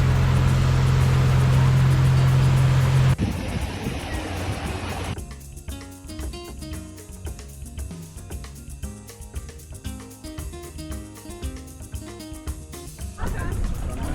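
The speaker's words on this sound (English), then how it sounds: "because of the noise of this boat" A tour boat's engine on the Amazon near Manaus. A steady loud drone runs through, and people talk over it.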